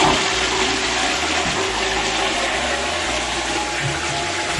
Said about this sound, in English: This is the toilet.